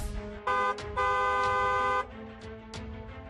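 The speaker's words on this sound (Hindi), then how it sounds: "हॉर्न बजाना जरूरी है।" Vehicle horns honk in short and longer blasts: a brief tone, then a sustained one lasting about a second, over background traffic noise, with fainter toots following.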